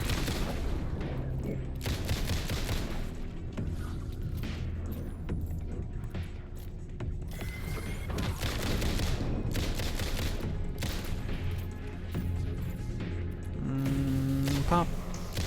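Alan Wake II video game gunfire: repeated loud shots in irregular bursts over a dense, rumbling ambient bed, with some voice-like sounds mixed in.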